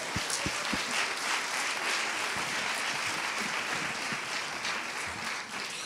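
A large audience applauds steadily for several seconds at a research results presentation, a dense, even wash of clapping at close range with no speech over it.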